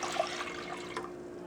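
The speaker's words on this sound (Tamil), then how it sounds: "இதோட வந்து ஒரு 5 cups நம்ம தண்ணி சேர்த்துக்கலாம்." Water is poured into a pan of sugar and cardamom powder to make syrup for rasgulla, a faint, steady splashing and trickling rush heard alone.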